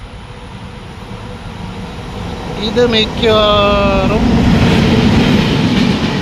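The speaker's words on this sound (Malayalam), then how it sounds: "ലോക്മാന്യത്തിന് Thiruvananthapuram central, Mumbai LTT Thiruvananthapuram central Netravati express ആണ് ആദ്യം കടന്നു പോകുന്നത്." An LHB-coach Netravati Express train arriving at Irinjalakuda railway station, a loud, close rumble with a horn-like tonal blast and building wheel noise that stays steady to the end, while someone speaks briefly.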